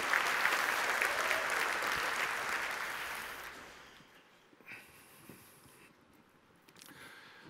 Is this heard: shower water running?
no